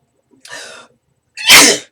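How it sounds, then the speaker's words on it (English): A person sneezes once, loud and close, with a softer breathy intake just before it. "And I sneeze a lot, too."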